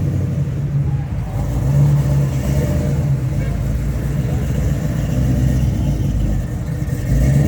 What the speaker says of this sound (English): Look at that sexy Chevelle, baby. LS motor, big fat 3-inch pipes.